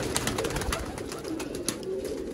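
Flying pigeons of breeds like Sialkoti, Golden, Magar and Teddy cooing continuously at close range, dense overlapping calls over a busy background.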